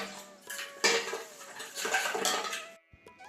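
Steel dishes, pots and utensils clatter and clink as they are handled for household chores in a home kitchen, in a series of close, sharp metallic knocks and scrapes with short pauses between them.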